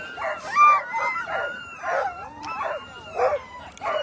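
Sled dogs at the start of the 2022 Willow 300 mid-distance race howl and bark in repeated overlapping bursts, a restless chorus of yips and wails with no talk over it.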